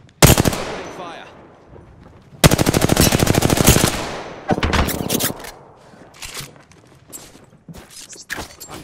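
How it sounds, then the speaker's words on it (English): Bursts of automatic gunfire in the Apex Legends video game, loud and close: a short burst, a long sustained rattle, then a shorter burst trailing into scattered single shots. "Opening fire."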